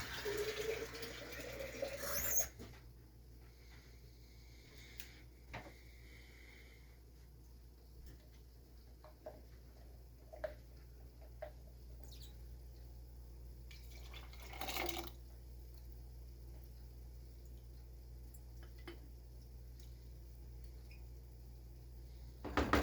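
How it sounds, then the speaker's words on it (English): Water from a tap running and dripping into a pot of home-canned mixed beans in a kitchen, a faint steady trickle with a brief louder splash at the start and occasional clinks. "I'm going to put some water in here and loosen these up."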